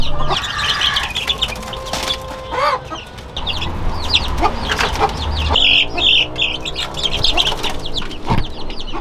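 Three-week-old Rhode Island Red chicks and younger mixed chicks in a brooding pen, with a continuous chorus of high peeping and chirping, some clucks and wing flaps, close and busy throughout.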